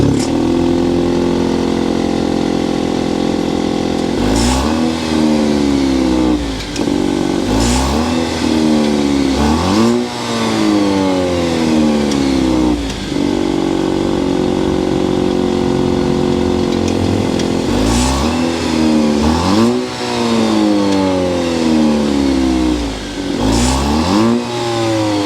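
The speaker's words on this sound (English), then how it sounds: "start it up so you can hear that exhaust now." A 2023 Maserati Grecale Modena's turbocharged four-cylinder hybrid engine revs hard through its exhaust, several sharp rising blips up to a high pitch and falling back to a steady idle, loud and close with no voices.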